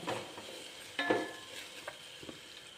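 A spoon stirring and sautéing mango carrot pickle with green chillies in a pan gives a soft sizzle with a few scraping strokes and light metal clinks, close and fairly quiet, without voices.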